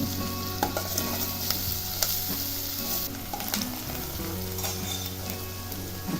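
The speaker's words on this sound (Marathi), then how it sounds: "कांदा भाजलेला आहे त्यामध्ये तिखट घालायचं आहे" Onions frying in a pan for a drumstick leaf bhaji, a strong continuous sizzle with stirring and scraping, close and steady, under a low background hum.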